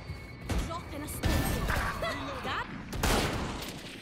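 Bursts of rapid gunfire from a tactical shooter video game crackle close and loud in several volleys, with a player talking excitedly over the shots.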